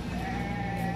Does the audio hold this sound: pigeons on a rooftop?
no